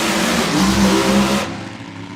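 A nitro Funny Car engine, Grumpy 2, revs hard and loud while staging at a drag strip, holding a sustained throbbing roar before it drops off sharply near the end.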